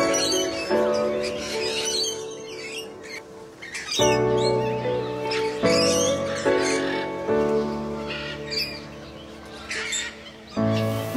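Many birds call and chirp together in a large free-flight aviary at Bird Park Islamabad, a dense layered chorus of whistles and harsh calls heard up close, with no talking.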